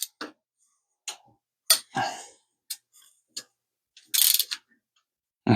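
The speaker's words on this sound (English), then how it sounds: "So loosen the torque wrench all the way. Recalibrate it back to 13." A torque wrench is loosened and reset, giving a handful of sparse, close clicks and ratcheting rasps separated by silence, with one longer scraping burst near the end.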